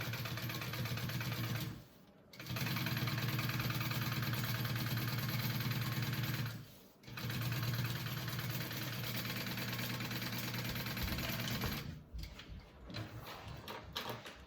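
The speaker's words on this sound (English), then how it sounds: "Okay, so I'm sewing this at a 3/8" A sewing machine runs steadily while stitching a bag at a 3/8 seam allowance. It drones in long unbroken runs that stop briefly twice, and it is heard alone with no talk.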